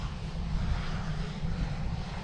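Propeller airplane landing on an airstrip, a steady broadband engine drone at moderate distance with rumbling low end and no voices.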